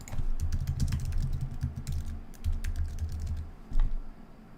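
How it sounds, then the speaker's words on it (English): Rapid typing on a computer keyboard, with a dense run of crisp key clicks in irregular bursts, close and fairly quiet, over a low background hum. "now I'm not even typing in the right thing"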